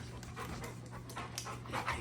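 A Cane Corso dog pants steadily and close by, a quick rhythmic run of breathy huffs lasting a couple of seconds with no voices over it.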